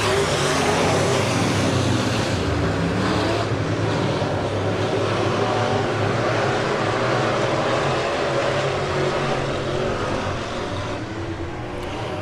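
Super stock race cars roar around an oval dirt track during a heat race, a dense, steady engine drone from the pack running single file, loud and continuous throughout.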